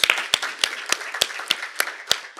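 Sparse, evenly spaced claps at a geostrategy conference panel session, a few hands clapping in slow regular rhythm, fairly faint and distant, with no voices.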